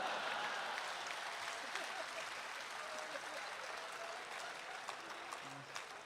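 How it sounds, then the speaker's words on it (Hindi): A live comedy audience claps steadily in a sustained, even wash of applause that holds at full strength throughout, with a faint voice underneath. "और ताली तो आप इस बात पर बजाएंगे"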